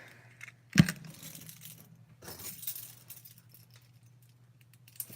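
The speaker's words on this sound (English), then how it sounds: "let me get my elevator keys here" A ring of elevator keys, including a key-switch key, is pulled out and handled, giving a sharp metallic clink near the start followed by softer scattered jingling over a steady low hum.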